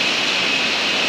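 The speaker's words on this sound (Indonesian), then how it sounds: "inilah air terjun bertingkat teman-teman" A tiered waterfall in Buleleng, Bali pours in a steady, broad rush of falling water, loud and close, with no voices over it.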